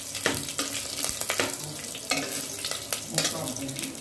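Hot oil sizzles and crackles as garlic, a bay leaf and red chilies temper leafy saag, a dense, close frying hiss with bursts of stirring and spattering.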